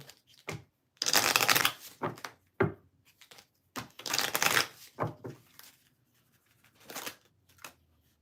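Tarot cards shuffled and pulled from a deck, close crisp riffling bursts separated by short pauses and softer card handling.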